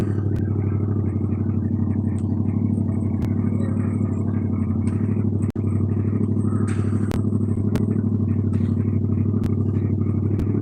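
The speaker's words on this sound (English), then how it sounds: "so you don't hear the bloody motorbike" A motorbike heard from indoors through a window: a loud, steady low engine rumble that fills the whole stretch without fading, with a sharp knock near the middle and a few faint clicks.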